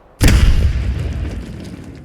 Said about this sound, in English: You could be sure that this explosion happened on the right side